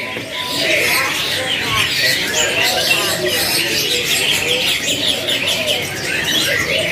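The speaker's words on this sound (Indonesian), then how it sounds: "Perkutut golden" Golden zebra doves (perkutut) coo and chirp amid a bird market's bustle, a steady layered chorus of soft calls with voices talking throughout.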